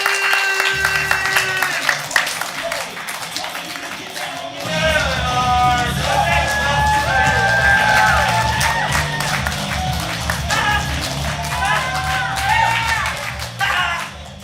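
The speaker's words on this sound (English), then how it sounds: "Get your hands clapped for our first team, the red team!" Improv comedy show audience applauding and cheering for the red team, sustained clapping with whoops and yells filling the room, loud and continuous.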